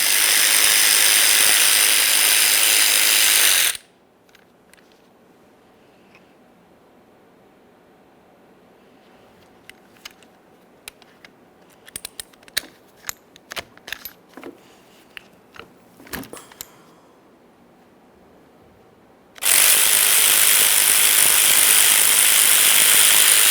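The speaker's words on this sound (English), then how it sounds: "Use our 7mm Allen head to remove each one of the two slider pins." A ratchet fitted with a 7mm Allen head loosening caliper slider pins on the rear brake of a 2013-2020 Ford Fusion, heard as faint, scattered clicks and ticks in a quiet stretch framed by loud, steady noise at start and end.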